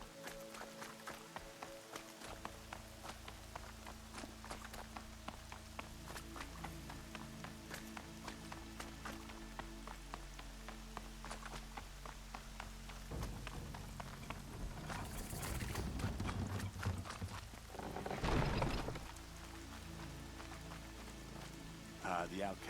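Rain falls steadily in Horizon Zero Dawn Remastered, a continuous patter on surfaces beneath game music and swelling effects, with clattering footsteps among it.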